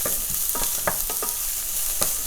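Onions cooking in a pan for a vegetarian paneer chilli, with a steady close sizzle broken by several short scraping stirs of a spoon.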